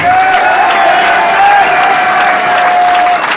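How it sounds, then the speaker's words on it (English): A crowd at a Republican party election-night celebration in Nassau claps loudly and continuously, with some cheering mixed into the dense, close applause throughout. "A round of applause for Tom Slater, Brian Nevin, Mike Deary."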